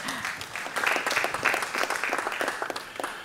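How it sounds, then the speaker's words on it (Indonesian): Audience applause at an East Java election appreciation event, a burst of clapping that swells after a brief quiet start, lively and fairly close, with faint voices mixed underneath. "diberikan tepuk tangan kepada mereka"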